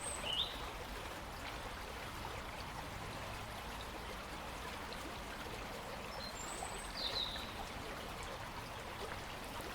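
A stream flows over a bed of glass and burbles steadily at a moderate distance, with a couple of faint bird chirps rising briefly above the water.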